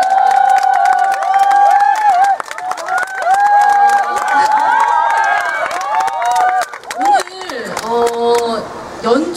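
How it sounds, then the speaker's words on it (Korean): An audience at an open talk at the Bucheon International Fantastic Film Festival cheers for actor-director Jang Keun-suk. Loud, high-pitched screams and shouts ride over clapping, with bursts rising and falling throughout. "박수 한번"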